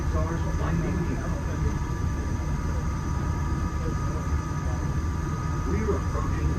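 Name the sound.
Walt Disney World monorail approaching Epcot station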